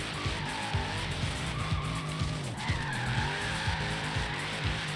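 Tires on a Liberty Walk Hellcat squeal in a sustained slide in the racing game Forza Horizon 3, a loud continuous screech wavering over the steady roar of the engine.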